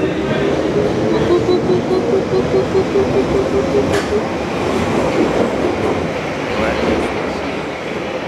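A London Underground train rumbles past loudly, a steady roaring clatter of wheels on rails with a faint squealing tone, and voices murmur underneath.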